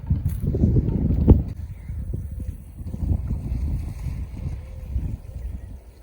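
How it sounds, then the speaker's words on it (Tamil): Strong wind gusts buffet the microphone in a small vegetable garden in France, an uneven low rumbling roar that rises and falls throughout with no speech. "காற்று கொஞ்சம் பலமாக அடித்து கொண்டிருக்குது"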